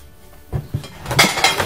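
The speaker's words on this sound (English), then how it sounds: "we got more household dishes, silverware" Household plates, microwave-safe dishes and silverware clatter and clink together close by, starting quiet and building into a busy jangle of rattling pieces.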